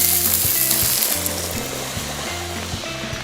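Green onions stir-frying in hot oil with a steady, loud sizzle, broken by regular rhythmic scrapes and tosses of a spatula or pan every half second or so, no voices.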